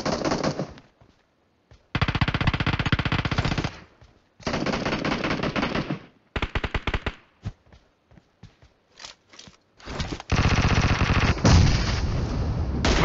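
Loud, close bursts of automatic rifle fire from a Scar-L in a PUBG Mobile team deathmatch, long sustained volleys broken by short gaps and a few single cracks, with no voices.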